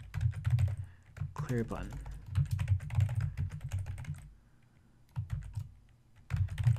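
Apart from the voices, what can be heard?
typing code on a computer keyboard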